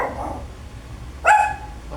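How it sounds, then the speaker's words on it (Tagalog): A pet dog, Luna, lets out a single sharp bark at close range outdoors in a rural Nueva Ecija yard, over a low background hum, with no talking. "Aso yung aso."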